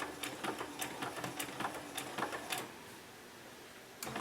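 A home sewing machine stitches fabric for a homemade protective mask, running forward and back stitches in quick irregular bursts of close, light mechanical clatter, then stopping briefly before starting again.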